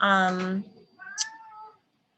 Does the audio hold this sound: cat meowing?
yes